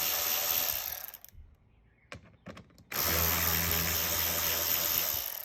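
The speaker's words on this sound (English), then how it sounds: "I'm going to throw the T15 Torx bit on an electric wrench, and I'm going to go ahead and remove all of the top Torx bits." Electric wrench with a T15 Torx bit spinning out the top bolts on a C8 Corvette bumper: a loud, steady whirring burst, a short pause with a few faint clicks, then another sustained run of the tool.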